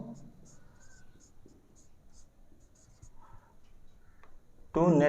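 Marker or chalk writing on a board during an accounting lesson on branch accounts, steady faint scratching strokes for several seconds, with a brief burst of louder voice at the end.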